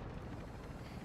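A helicopter in the Warzone video game gives a constant dense rotor and engine roar, loud and close, with no voices.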